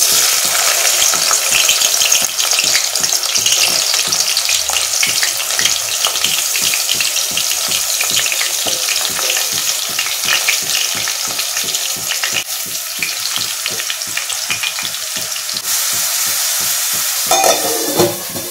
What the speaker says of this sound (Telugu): ఆయిల్ వేడైంది కదా, ఉల్లిపాయలు వేసేసుకుందాం